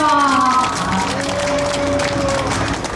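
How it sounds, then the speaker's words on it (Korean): Audience applause at an outdoor magic show in Bucheon's south plaza, a dense wash of clapping held steadily throughout, mixed with crowd noise and sustained music tones. "박수 한번 만주세요"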